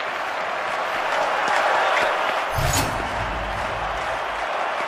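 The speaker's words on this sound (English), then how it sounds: "Crowd responding to that." Broad, steady crowd roar and cheering in a stadium crowd within a London 2012 Olympic video game, rising slightly midway, with a low thud near the middle and a faint voice underneath.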